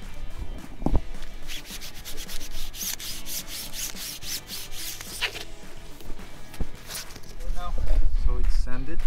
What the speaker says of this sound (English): So we cleaned and sanded also the window.